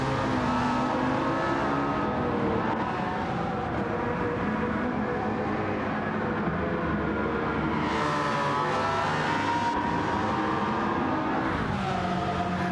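In Gran Turismo 7, a race car engine drones continuously with shifting pitch as it accelerates and changes gear along a straight, sustained and fairly loud with no talk.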